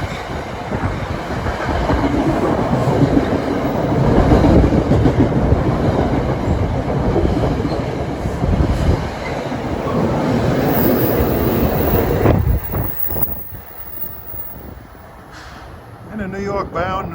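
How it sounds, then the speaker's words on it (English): A Washington-bound Amtrak Acela Express roars past on the Northeast Corridor in New Jersey with a loud, sustained rush and clickety-clack of wheels. The noise drops off sharply near the end, and a voice talks over part of it. "Just in time for a Washington-bound Acela Express at 12:19."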